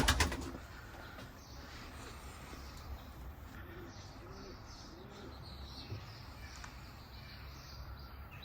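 Tek Beyaz pigeons coo softly amid quiet outdoor ambience on a hot day, a faint low cooing in the background with no talk.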